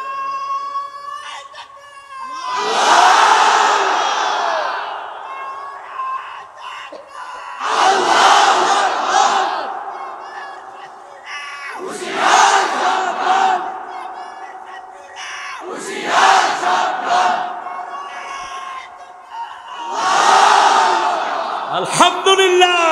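A large crowd at a waz sermon gathering roars a slogan in unison, five loud swelling chants separated by short pauses, each rising together and fading out.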